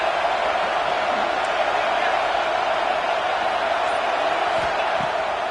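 A stadium crowd at a football game, with a steady, loud roar of cheering and noise continuing throughout without a break.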